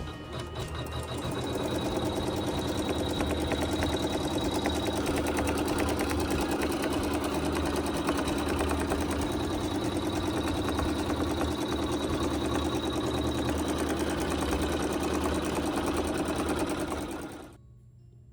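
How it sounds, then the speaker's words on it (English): An embroidery sewing machine runs a placement stitch on a quilt block, a rapid, steady mechanical whir and needle clatter that holds constant for about sixteen seconds before stopping abruptly. "we're going to sew the placement stitch so we know where to put our wool"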